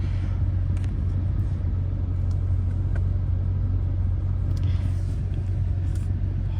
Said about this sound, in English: you put your foot on the brake as hard as you can and hit the gas.